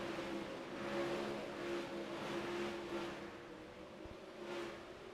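Dirt track race cars in the Dirt Slingers Race League Thursday Thunder Series drone steadily at a distance, engines rising and falling as the pack circles, with no talk.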